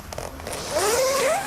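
A zipper on the mesh section of a baby play yard hammock is pulled open in one smooth, steady rasp, close and clear with no talking.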